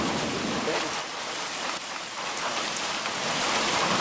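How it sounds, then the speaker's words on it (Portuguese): Steady rain falls in a dense, hissing downpour with raindrops spattering on surfaces, continuous and fairly loud throughout. "Mais chuva?"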